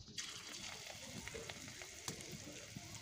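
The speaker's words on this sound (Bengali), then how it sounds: "আবারও কড়াইতে সেম একইভাবে আমি বড়াগুলো দিয়ে দিচ্ছি," Rohu fish roe fritters fry in hot oil in a wok, giving a steady, close sizzle with scattered crackles and pops throughout.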